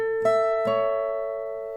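Acoustic guitar picks a short A-based pattern one octave high, two plucked notes ringing out and sustaining, close and clear with no voices.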